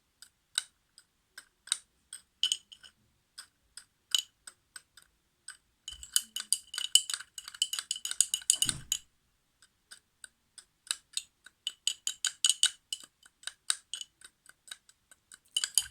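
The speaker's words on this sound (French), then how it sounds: "Je vais prendre ma cuillère. Et si je mélange" A spoon stirs a sugar cube in a glass of water, giving sparse light ticks that turn into a rapid run of bright clinks and then come in quick, irregular bursts.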